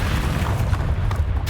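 A Bombarda spell blast from Hogwarts Legacy, heard as a loud, deep, rumbling explosion that fills the whole short moment with heavy low-end roar.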